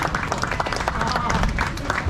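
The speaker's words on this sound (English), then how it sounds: "Round of applause." Crowd applauding and cheering outdoors at a gender reveal during a Panty Raid event, a dense burst of clapping and shouts, loud and close, lasting about two seconds.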